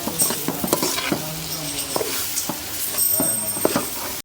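A spoon scrapes and stirs ground chana dal paste in hot oil in a pan, with repeated scraping strokes over a steady frying sizzle, close and fairly loud.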